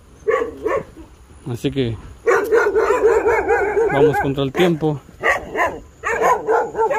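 Dogs bark repeatedly nearby in short bursts, overlapping someone speaking, with several loud yaps clustered together.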